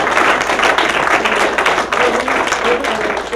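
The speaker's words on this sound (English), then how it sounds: "a big thank you and round of applause" A humanist organization's audience applauds a guest speaker at the close of a talk on the secular movement, with dense, steady clapping throughout and a faint murmur of voices.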